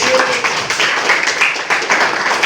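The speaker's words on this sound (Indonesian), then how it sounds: "tepuk tangan untuk temannya yang tadi" A classroom of students claps for a classmate, with dense, steady applause from the whole group filling the room for a few seconds.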